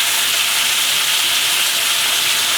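Slices of giant grouper frying in a hot pan give off a loud, steady hiss and sizzle that holds without break, close up and with no talking.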